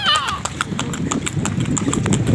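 The hooves of a white horse pulling a delman carriage clip-clop in a steady, close rhythm, with a brief whinny-like squeal at the start and people talking nearby.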